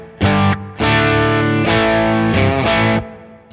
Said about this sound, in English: Just an amp, a cab, a little bit of drive on the front end,